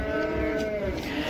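Cattle at the Karabulak livestock bazaar near Shymkent low in a long, steady moo, loud and close, with the murmur of the market underneath.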